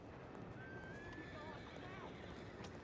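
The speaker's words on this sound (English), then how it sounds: "We're gonna go over to the stable to get our horse." A horse at a stable in the Red Dead video game (WildRP) gives a clear, rising whinny that trails into shaky, descending neighs, faint and close over a steady low background bed with soft hoof clops.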